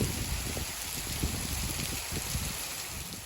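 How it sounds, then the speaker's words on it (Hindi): Heavy rain pours down as a dense, steady hiss with scattered pattering hits, heard from shelter under a tree in a valley. "बारिश थी थोड़ी देर की, पर थी बड़ी तेज़।"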